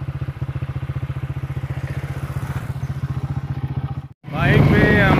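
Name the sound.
motorcycle riding along canal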